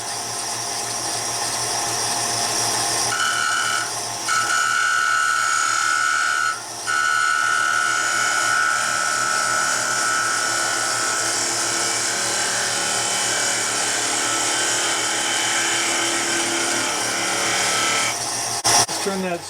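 A spindle gouge sharpened to roughly 25–30 degrees cuts a spinning wooden tippe top on a lathe, a steady loud rasping, scraping drone with a constant motor hum beneath, holding for nearly twenty seconds with brief dips.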